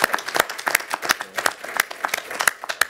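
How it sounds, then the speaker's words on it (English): Applause for a speaker at a conference session on bank capital and stress testing: a brief, fairly sparse round of distinct claps from a modest audience, close and uneven in rhythm. "give a round of applause for her"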